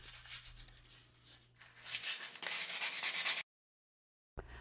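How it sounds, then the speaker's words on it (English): Steady rasping rub of hand sanding on a wooden spoon to remove excess carbon, continuous strokes growing louder, then a short silence before the rubbing briefly resumes. "this is just a light sanding to get some of the excess carbon off"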